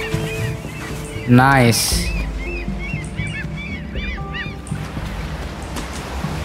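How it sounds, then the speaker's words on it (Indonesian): A bird honks in the video game Unravel, a loud goose-like call followed by softer, repeated chirps, over ambient wave-like surf and a brief spoken word. "itu ada burung, hati-hati"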